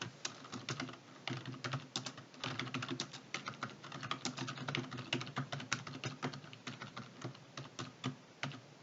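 Steady typing on a computer keyboard while entering data into an Excel spreadsheet, a fast run of close, crisp key clicks with brief pauses, alone without talk.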